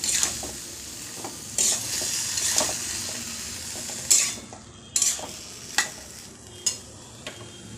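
Banana flower and potato, both boiled, stirred together in a pan for a vegetarian mocha dalna, a spoon scraping in a slow series of distinct strokes over a soft sizzle, with no talk.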